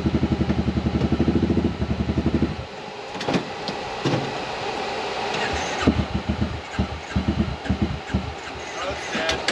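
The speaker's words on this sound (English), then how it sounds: "I think one of the cylinders, because of how it cranks, it sounds weird." A KRX vehicle engine with a suspected bad cylinder runs roughly, its steady loud pulsing giving way after a few seconds to uneven, lumpy bursts and irregular knocks.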